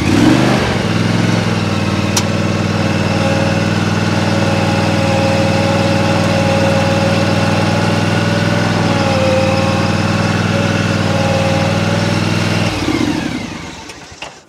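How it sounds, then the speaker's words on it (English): A zero turn lawn mower spins in a tight turn on grass, its engine droning loud and steady before the sound cuts off near the end. "I'm going to turn this zero turn really tight without doing the three-point turn"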